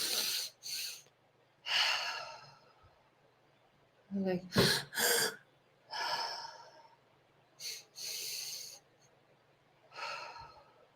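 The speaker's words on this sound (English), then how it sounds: "It's 2 inhales and an exhale." A person performs a breathing exercise of two quick inhales followed by an exhale, repeated in short nearby bursts of breath through the nose and mouth, with brief pauses between rounds.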